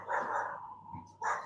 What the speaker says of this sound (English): I don't know whether you can hear the dogs barking at the back there